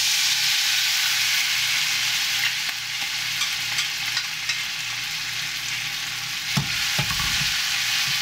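Noodles fry in a pan of hot oil over high heat with a steady, dense sizzle, a few brief clatters and stirring knocks near the end.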